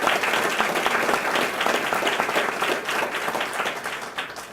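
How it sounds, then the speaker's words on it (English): Audience applause at a health center press conference, dense steady clapping from a crowd that holds strong throughout and eases slightly at the end. "Let's give them a round of applause."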